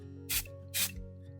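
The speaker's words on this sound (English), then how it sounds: "I'm going to spray it with mould release." Two short hissing bursts of mould release sprayed from an aerosol onto a resin mould master, close and fairly quiet, with a pause between them.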